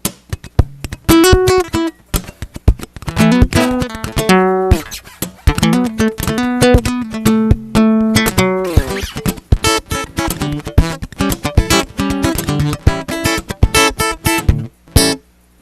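An electric guitar plays a fast solo from a song, a busy run of picked single notes and bends with sharp attacks, loud and close with no other instruments or voices.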